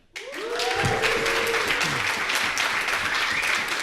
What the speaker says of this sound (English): That's like 3 rounds of applause before we even started.